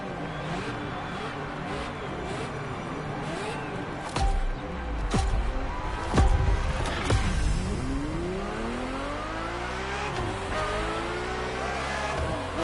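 Ferrari F50 in The Crew Motorfest, its engine revving hard and roaring through gear changes with repeated rising and falling sweeps, loud and close, plus a brief tire squeal and a passing surge midway.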